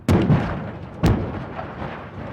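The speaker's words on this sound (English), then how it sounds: "It was a great explosion." Two sharp, loud blasts about a second apart from a staged trailer explosion on a film set, each a sudden broadband bang followed by a rumbling decay.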